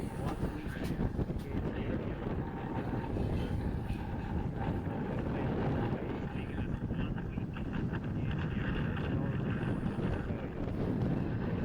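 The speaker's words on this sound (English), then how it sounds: "it's very windy, very tidal," Strong wind roars across the microphone on a sailboat at sea in the Torres Strait, near Cape York in Australia's far north. The gusting buffets are loud and continuous, with water noise underneath and no pause.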